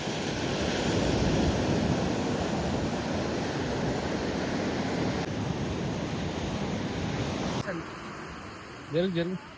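Sea waves roll onto a Goa beach in a continuous, loud wash mixed with wind buffeting the microphone. The roar drops off near the end, where a voice briefly speaks.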